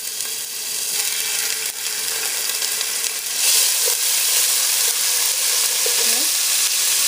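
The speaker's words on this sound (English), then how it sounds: "I'm going to go ahead and add our ginger and garlic" Ginger and garlic frying in oil with curry leaves in a pan, a steady loud hissing sizzle with occasional stirring scrapes and pops, no talking over it.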